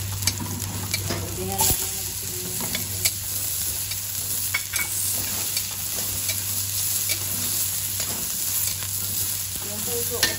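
Garlic sizzles steadily in hot oil in a pan while being stirred, with a constant frying hiss and occasional scraping clinks; a voice speaks briefly over it.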